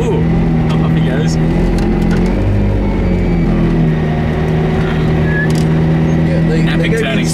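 A McLaren P1 GTR engine revs while driving, a loud close rumbling drone with rising and falling revs that fills the whole stretch.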